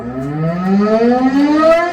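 A loud civil defense air raid siren wails with a rising, slowly gliding tone, sustained and dominant, heard outdoors from a fair distance.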